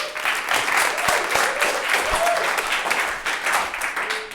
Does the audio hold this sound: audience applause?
yes